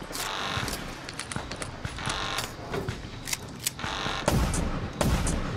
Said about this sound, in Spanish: casi fallo los tres tiros